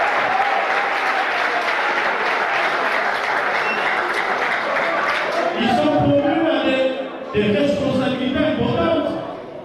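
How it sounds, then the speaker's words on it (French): Applause at a youth general assembly, a dense steady clapping crowd that is loud and sustained, briefly dipping before rising again and fading near the end. "applaudissements"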